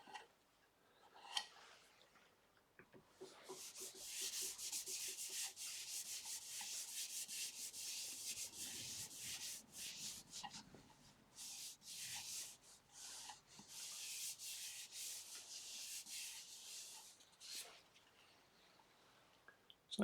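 A second coat of sanding sealer rubbed onto an ash elbow turned on a wood lathe, a steady close dry friction hiss with brief pauses and a few light ticks, continuing for most of the stretch with no talk.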